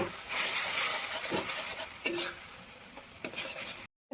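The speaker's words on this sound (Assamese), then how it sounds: "এনেকৈ মছলাখিনি একদম ভালদৰে ভাজি লৈছোঁ, কেঁচা গোন্ধ যোৱাৰ কাৰণে" Spices sizzle and crackle in a hot pan for a soya chunk curry with curd, while a utensil scrapes and stirs, with a few louder clinks along the way.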